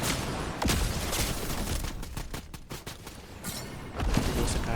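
Gunfire in the Fortnite video game, several rapid shots in quick succession with booming thuds, loud and close over a dense game background.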